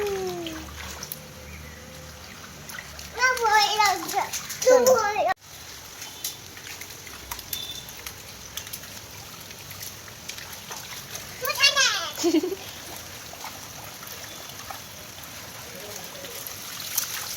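Water splashes in short bursts as a child walks through rainwater, with a voice and an adult speaking over and between the splashes.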